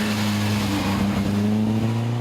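Alpine A310 driven at speed in a rally, its engine a loud, steady close drone with a slight rise in pitch, set against broad road and wind noise.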